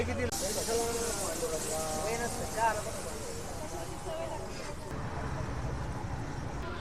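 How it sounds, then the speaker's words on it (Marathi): Pomfret fish frying at a fish restaurant stall in a food lane at Sangvi, a steady broad hiss of hot oil that runs under people talking nearby. "आता आलेला आहे जो पापलेट फ्राय होतोय"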